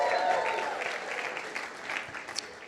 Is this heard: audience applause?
yes